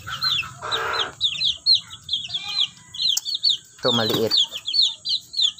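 Backyard chicken hens cluck in short bursts and chirps, some close and loud, others fainter, while a person speaks briefly between the calls.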